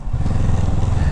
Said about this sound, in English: I gotta get a little bit higher so I don't have to like rev that thing out.